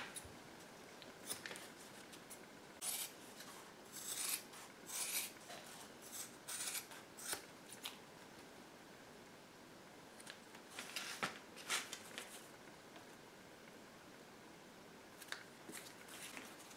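Repeated short rasping snips and scrapes as the oversized underside of a handmade archery arm guard is trimmed, faint and close, coming in bursts with pauses and no talk.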